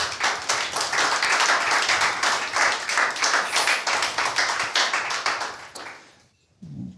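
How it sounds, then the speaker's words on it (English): Steady clapping from a small group applauding a panel speaker at an online festival panel, continuous and fairly close, then stopping abruptly near the end, leaving a brief pause and a faint low sound. "Give a warm applause for Zrinko."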